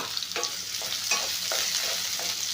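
Onions sizzle steadily in a hot pan, softening, with a few distinct scraping stirs of a spatula breaking the hiss.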